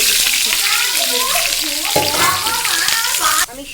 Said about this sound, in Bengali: আমি অন্য কড়াইতে তেল বসিয়ে দিয়েছি, বসার পরে সেই পেঁয়াজ আমি দেখো ছেড়ে দিচ্ছি